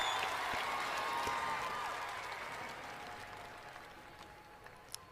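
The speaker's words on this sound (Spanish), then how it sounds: "Aplausos." Concert audience applauding a performance at Bastau 2017, a dense wash of clapping heard from a distance that slowly fades over several seconds.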